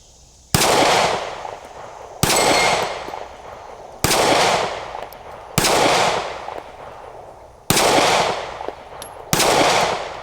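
A SCCY DVG-1 pistol fires at an outdoor range, six sharp, loud shots spaced a second or two apart, each trailing off in a short echo, with no talking.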